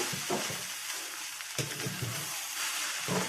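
Sliced okra (vendakka) stir-fries in a pan with a steady sizzle, while a spoon scrapes and tosses it in short, periodic strokes close by.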